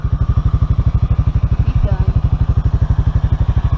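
A Honda motorcycle engine runs close and loud, its steady rapid firing pulses beating evenly throughout with a faint voice briefly underneath.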